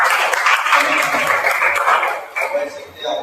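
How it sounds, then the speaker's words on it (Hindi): A church congregation at a Sunday service claps to welcome a first-time visitor, a lively burst of many hands that fades out toward the end, with a little sound around it. "स्वागत है आपका जोरदार तालियों के साथ।"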